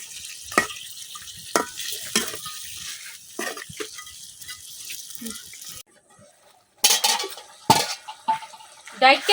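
Fish being stirred with spices in a pan in a village kitchen: scraping of a spatula on metal, intermittent clatters and a light sizzle, broken by a short pause, no speech.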